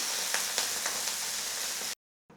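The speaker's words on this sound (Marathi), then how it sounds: "इथे मी कांद्याने तव्याला पूर्ण तेल लावून घेते आणि तव्यावरती चांगलं पाणी शिंपडून घ्यायचं" Water sprinkled onto a hot cast tawa rubbed with oil using an onion gives a steady loud sizzle with a few crackling spits, then cuts off abruptly before resuming briefly.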